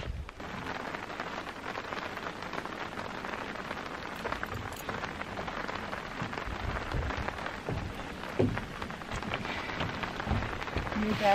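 Steady rain patters densely on a canvas tent at a Colorado campsite, a continuous close hiss with occasional heavier drops and no talking.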